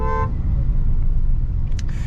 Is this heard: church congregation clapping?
no